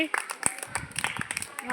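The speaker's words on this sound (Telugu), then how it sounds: "క్లాప్స్ కొట్టండి ఒకసారి." Children clap together after singing a Telugu rain rhyme in a second-grade class, a quick burst of uneven claps mixed with voices.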